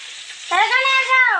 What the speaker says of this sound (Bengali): এইখানে দিদনের জন্য দেখো পটল ভাজছি দুইটা